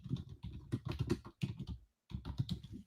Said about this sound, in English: I'm going to go ahead and type in our WebEx